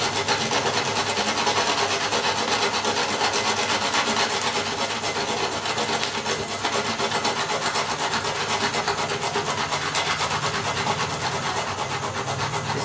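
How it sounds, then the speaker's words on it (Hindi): A wooden stick rubs continuously and steadily against a potassium permanganate and sugar mixture, producing a dense, loud, close scraping and grinding that does not pause for almost thirteen seconds. "अब हम इस लकड़ी के टुकड़े से इसको रब करेंगे।"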